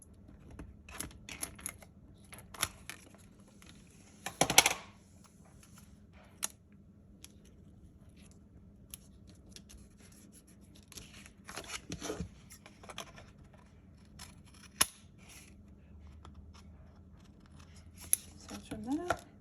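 Scissors trimming paper for a handmade Halloween card, scattered quiet snips and paper rustles spaced irregularly over faint background.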